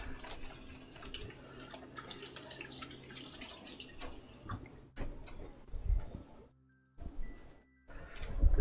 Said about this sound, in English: Gotta give my hands a quick rinse.